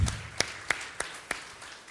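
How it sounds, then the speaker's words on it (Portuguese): Applause from a church congregation, heard as a few sparse, separate claps spaced about a third of a second apart rather than a full burst, fairly quiet throughout. "Eu acho que a gente podia aplaudir"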